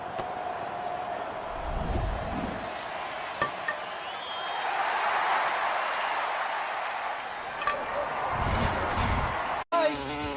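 Wasps buzz in a radio advertisement, a continuous insect drone with a crowd-like wash underneath that runs for several seconds before cutting off abruptly.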